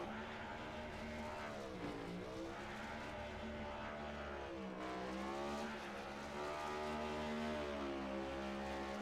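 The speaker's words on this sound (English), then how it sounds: "So as we see Proudfoot burn out his engine here" A race car on the oval at Miami does a celebratory burnout after winning a Cup Series race, its engine revving and wailing in rising and falling sweeps while tire roar rumbles beneath, steady and somewhat distant throughout.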